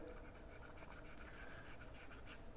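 A paintbrush scrubs oil paint mixed with turquoise, titanium white and medium onto canvas, giving a faint, rhythmic bristly rubbing heard up close.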